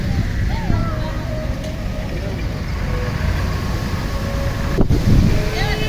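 Strong wind gusting through mango trees, a steady broad roaring rush with faint voices underneath.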